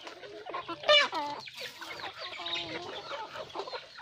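Young chickens being raised in a farm rearing pen cluck and chirp continuously, close by, with one louder sharp squawk early on and softer overlapping calls after.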